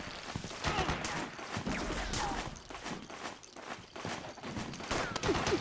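Rapid bursts of gunfire in Metal Gear Solid 4, faint crackling shots scattered irregularly over several seconds amid a busy battle mix with distant clatter.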